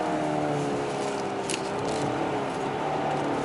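Kia K8 sedan cornering quickly through tight winding bends, a steady broadband road and engine roar heard from inside the car, continuous and fairly loud without tire squeal.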